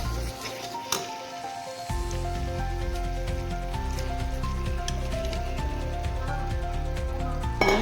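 Fish sizzling in hot oil as the pieces are dropped into a pan, a sudden hissing crackle that jumps up and keeps spitting steadily with scattered pops.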